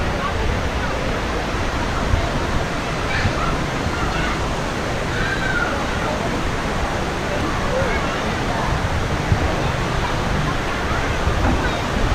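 Sai Yok Noi Waterfall in Thailand pours with a constant, rushing hiss, steady and fairly close, with faint voices occasionally heard beneath the roar.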